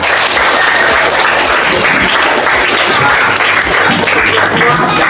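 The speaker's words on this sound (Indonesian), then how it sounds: "Tepuk tangan." Schoolchildren at an elementary school traffic-safety session clap loudly and continuously, a thick close wash of many small hands with occasional dull thumps underneath.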